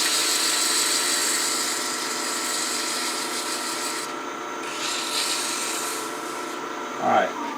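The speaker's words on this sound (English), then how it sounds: "Now we're going to touch that up with a little bit of sandpaper" Sandpaper rubbing a wooden pendant spinning on a lathe, a continuous close hiss and scratch with a slight change partway through and a brief knock near the end.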